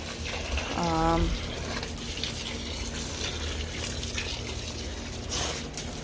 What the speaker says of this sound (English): I'm just watering everything, making sure I'm really getting the ones I repotted.